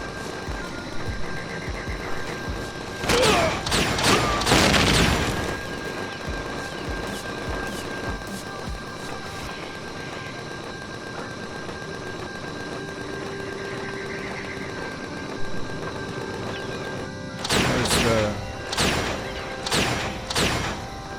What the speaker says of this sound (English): our turrets are going to stop shooting at things soon